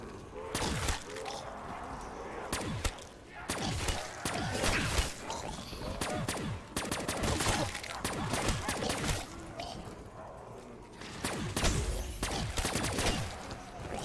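Rapid bursts of MP40 submachine gun fire in a zombies shooter game, loud repeated volleys spread across the stretch with short gaps, mixed with clattering game effects.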